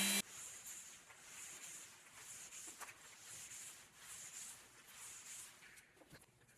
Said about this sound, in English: This was sanded in preparation for the final coats of finishing resin.